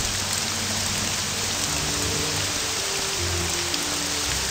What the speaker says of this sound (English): looks like the rain's stopping